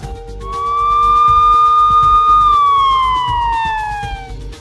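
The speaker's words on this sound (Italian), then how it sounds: "Le sirene della polizia?" A police car siren wails loud and close, one long rising tone that holds and then slides downward, over a low rumbling background.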